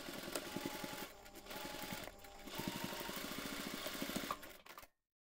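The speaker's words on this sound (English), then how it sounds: "we're going to sew each seam using 1 centimeter seam allowance" A sewing machine stitches the seams of a zipper pouch at a 1 centimeter seam allowance, a close rapid needle chatter in three runs separated by brief pauses, then stopping abruptly into silence.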